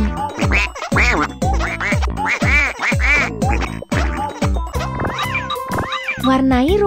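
A cartoon duck quacks repeatedly and loudly in a children's animal coloring game, with a rapid run of bright nasal quacks over playful music.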